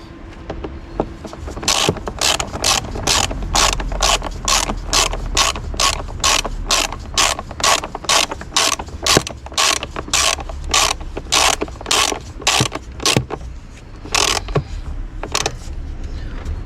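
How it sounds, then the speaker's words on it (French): Screws are driven back into the air filter box of an Opel Astra H with a ratcheting tool, a rapid run of close, sharp clicks in steady rhythm, pausing briefly near the end. "on va aller revisser les vis"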